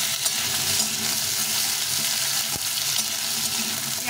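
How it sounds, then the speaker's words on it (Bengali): Red potatoes fry with ginger and green chilli in a pan, giving a loud, dense, continuous sizzle with a single sharp scrape partway through and no talk. "আলুটাকে আমি ভালো করে আগে ভেজে নেব।"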